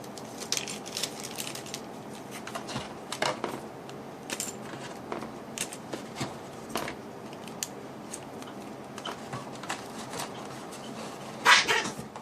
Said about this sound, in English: Those are my dogs battling.